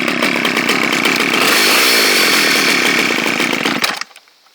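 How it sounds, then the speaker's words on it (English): A Sears Custom 10XL chainsaw roars loudly and steadily at close range, then cuts off abruptly and winds down to quiet. "I like the sound of this chainsaw."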